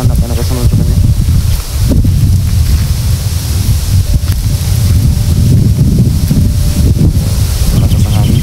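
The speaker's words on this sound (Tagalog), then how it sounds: "Malakas ang hangin." Strong wind roars and buffets loudly and continuously, a dense rushing noise that persists throughout with slight fluctuations in force.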